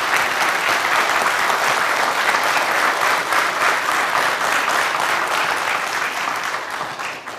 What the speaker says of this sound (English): Can I have a round of applause for Commodore,